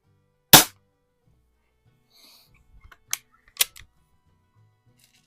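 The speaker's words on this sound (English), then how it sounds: "I'm just shooting them so I can shoot something" A Weihrauch R7 air rifle fires at a target: one sharp, loud crack, then after a quiet pause two smaller snapping shots close together, with faint clicks between them and near silence otherwise.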